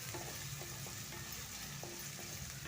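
Chopped tomatoes fry in a pan for a tomato curry, making a faint, steady sizzle over a low background hum.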